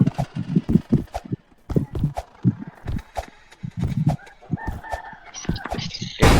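A rooster crows repeatedly in a rural setting, loud and close, among clucking hens and other farmyard noises, with some background voices.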